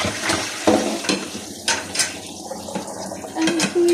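Dishes being washed after a meal, with close clattering of plates, pots and cutlery and splashes of water in an irregular rhythm.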